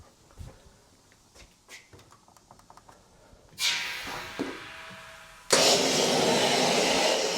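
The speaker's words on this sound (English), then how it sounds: "We quickly turn the compressor back on." An air compressor in a workshop, used while stripping the rear end of a blobeye WRX, kicks on loudly with a broad steady roar after scattered clicks and clunks. It briefly cuts out, then restarts and runs on.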